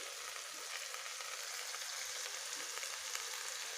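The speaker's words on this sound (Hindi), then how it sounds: "अब ये टमाटर काट के रखी हूँ 2, इसको डाल देती हूँ।" Chopped tomatoes hit a hot pan in a home kitchen and sizzle steadily, a faint, even frying hiss that carries on without a break and without voices.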